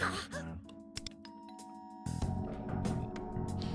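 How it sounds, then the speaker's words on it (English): A two-tone electronic doorbell chime rings out over a busy game soundtrack with background music and effects. "Someone's ringing the doorbell."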